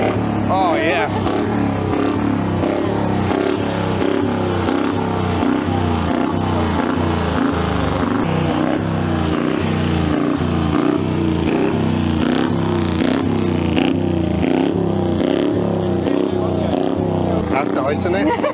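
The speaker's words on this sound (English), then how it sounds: "every time you turn this camera on, somebody starts a motorbike" A vintage motorcycle engine at a hillclimb event runs loud and close, throbbing steadily with throttle blips and revving, while people talk over it throughout.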